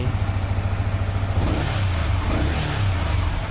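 A Yamaha XSR 155 (2022) motorcycle throttle is twisted, the engine climbing into a couple of louder revs before settling back toward idle, close to the microphone.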